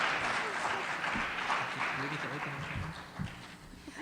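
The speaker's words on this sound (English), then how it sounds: "please join me in a round of applause" Audience applause at an evening awards-style gathering, a steady wash of clapping lasting the whole stretch with some voices and cheers mixed in underneath.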